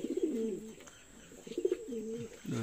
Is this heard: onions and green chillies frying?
no